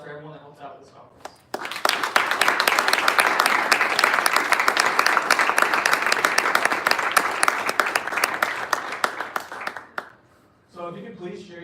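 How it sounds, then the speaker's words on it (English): Conference audience breaks into a full round of applause after a short spoken line, dense clapping lasting about eight seconds before fading, followed by a speaker resuming. "Please give a round of applause for everyone that helped out with this conference."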